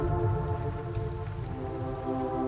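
Steady rain falls in a soft, even patter under a low tonal drone, with no voices present.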